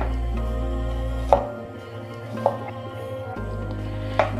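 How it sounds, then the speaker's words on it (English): A knife dices an onion into small half-centimetre pieces on a board, giving three spaced, sharp chops over a steady low hum, with no speech. "we need to cut in a length of nearly half centimeter like this."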